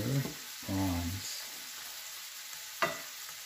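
Tiger prawns boil in red wine in a pan, giving a soft, quiet bubbling sizzle that runs briefly and ends with a short clatter.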